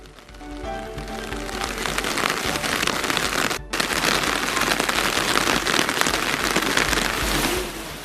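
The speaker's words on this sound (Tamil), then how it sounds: "இன்று காலை மழை பெய்தது" Steady rain pours down in a Chennai suburb, a dense hiss of drops pattering on surfaces, loud and close, with a brief break partway before the downpour resumes unchanged.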